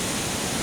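Floodwater from the mountains rushes through Barra Poblacion during Typhoon Basyang, a loud, dense, even roar filling a brief moment with no other sounds standing out.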